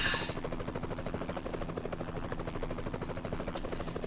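A helicopter in American Truck Simulator at the Grand Canyon buzzes steadily with a fast rhythmic rotor chop, moderately loud and alone.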